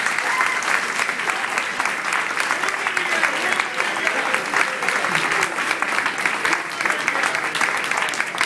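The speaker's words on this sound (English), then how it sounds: "I'd like to give them a round of applause as well for helping out." An audience at a fire department event gives a loud, sustained round of applause for the volunteer fire departments, dense clapping from a large crowd filling the whole stretch.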